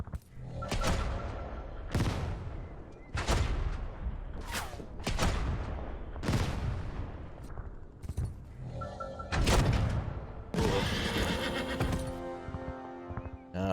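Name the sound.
horse neighing in a WWII tactics video game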